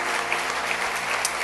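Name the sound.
audience applause in church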